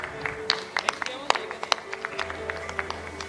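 Scattered clapping from an audience at a palliative care workshop as a moderator is honoured with a memento, sparse claps over a low background hum with murmured voices.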